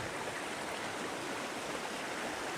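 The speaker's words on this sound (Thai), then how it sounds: "ตรงนี้น้ำไหลเอื่อยๆแบบนี้" A gently flowing canal stream runs in a steady, even wash of water noise, close and continuous with no talking over it.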